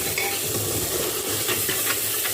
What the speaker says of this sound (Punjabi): ਗਿਆ ਤੜਕਾ